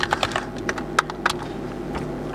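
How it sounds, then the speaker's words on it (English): Close computer keyboard keystrokes typing a command into a command prompt, a quick irregular run of crisp clicks that thins out toward the end, with no talk. "whenever I type in command prompt and I go into IP config"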